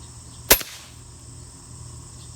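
A single sharp crack from an FX Impact MKII .30 air rifle after tuning, loud and close, with a short ringing tail that fades into quiet room ambience.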